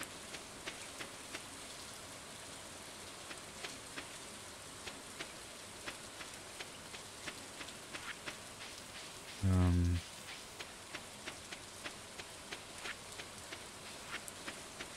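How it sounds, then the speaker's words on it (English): Steady patter of rain in the Stardew Valley farming game, a soft continuous hiss with scattered light ticks, broken briefly by a short low thud partway through. "Oh, it's raining here."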